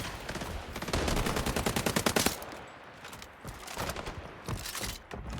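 Gunfire in the video game Highguard: rapid bursts of automatic shots, loud and close, with a dense rattling run early on, then scattered shots and impacts.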